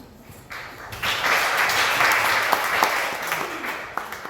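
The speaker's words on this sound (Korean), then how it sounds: "바쁘신 가운데 강의를 해주신 송희영 교수님께 다시 한번 큰 박수 부탁드리겠습니다" An audience at a monthly meeting applauds after a lecture, a dense burst of clapping that starts abruptly and holds steady for several seconds before thinning out.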